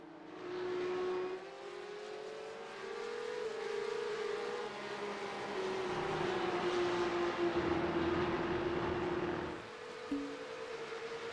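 Porsche Cup race cars circling the Spa circuit, a steady engine drone with a rising and falling whine as cars pass at a distance, continuous and loud with no talk.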